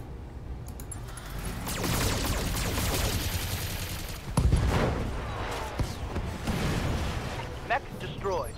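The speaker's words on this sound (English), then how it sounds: "I think I'm just gonna shoot you with everything I got." Mech weapons fire in the BattleTech video game in an urban battle, bursts of gunfire and explosive impacts layered into a sustained roar, with a sharp blast midway and a voice talking over it.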